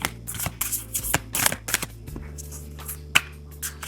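Starseed Oracle cards are shuffled close by in quick, uneven bursts of riffling, snapping and slapping card sounds, with a low hum underneath.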